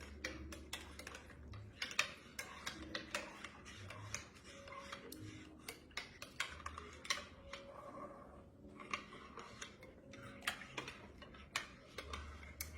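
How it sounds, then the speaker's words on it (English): A spoon stirs chocolate into warm milk in a pot, giving faint, quick ticking and clinking taps against the sides in a steady, close rhythm with no voices. "Give that a good stir. And let that chocolate dissolve into that warm milk."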